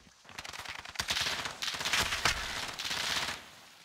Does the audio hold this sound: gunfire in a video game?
yes